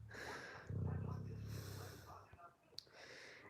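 A person snoring with rough, snorting breaths, a loud low rumbling burst followed by quieter wheezy breathing, close by.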